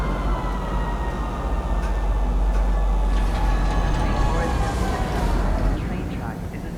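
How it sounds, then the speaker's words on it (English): Steady low rumble and hum of a train pulling into a metro station in the Star Citizen video game, with a clear automated announcement voice playing over it. "Now arriving, Metro Center. Please watch your step when disembarking the train."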